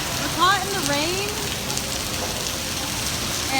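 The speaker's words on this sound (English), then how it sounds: "We're caught in the rain" Rain pours steadily on a New York street in December, a dense, even hiss close by, with faint voices and brief chirpy sounds near the start.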